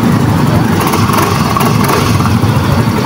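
A motorcycle engine, push-button started, idles at a steady, even rumble close by, loud and continuous throughout with no pauses.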